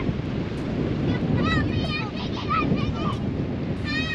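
Sea surf rolls onto the beach at Alcudia in a continuous broad wash, buffeted by wind noise on the microphone, while faint voices of people nearby come and go over it.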